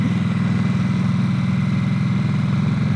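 A Harley-Davidson Nightster motorcycle engine drones steadily while riding on the road, a loud continuous low pulsing throb with wind noise, no change in pitch and no talk.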